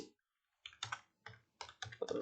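Typing on a computer keyboard at close range, a few quick clusters of sharp key clicks separated by short pauses, with no talking.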